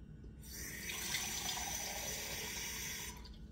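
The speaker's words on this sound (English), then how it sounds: "Okay, add another cup of water." Tap water runs steadily into a container while a cup of water is measured out for sandwich bread dough, a continuous close splashing hiss that starts abruptly and stops after about three seconds.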